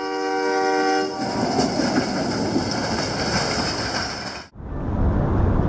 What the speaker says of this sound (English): This snowplow mounted on a locomotive has been in service since 1927.